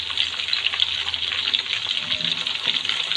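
A second batch of chicken goes into hot oil for deep frying, giving a steady, close, hissing sizzle throughout, with no talking.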